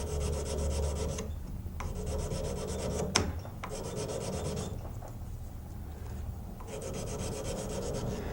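Close, rasping strokes of 120 grit sandpaper worked by hand along a knife blade from edge to spine, with long back-and-forth scrubbing passes broken by brief pauses and a single sharp tap midway.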